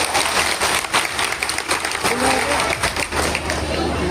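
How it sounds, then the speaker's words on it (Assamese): An audience at an outdoor Rongali Bihu celebration gives a round of applause, a steady wash of clapping with crowd murmur underneath, fairly loud and continuous. "এটা হাত চাপৰিৰে আশীৰ্বাদ দিয়ক"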